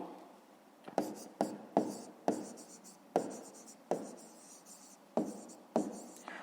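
Writing on a board during a 5th-grade math lesson, a series of sharp, distinct taps and strokes in an irregular rhythm, fairly close and quiet with no talking over it.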